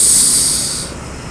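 An intercity bus passes on an Indonesian road, giving a loud, airy hiss and rush close by that fades away over about a second.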